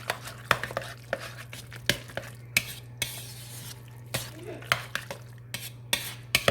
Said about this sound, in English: we're going to go ahead and mix this up